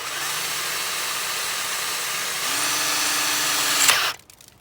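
A power drill boring a small pilot hole into an outboard's cavitation plate, its steady whine running continuously, then pitching up as the bit bites before cutting off abruptly; close and fairly loud with no voices.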